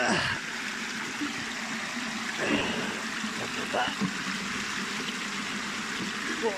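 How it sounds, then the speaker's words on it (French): A mountain stream on a forest hike in the Massif du Pilat flows with a steady, close rushing and splashing that runs unbroken throughout. "De l'eau, bon Dieu."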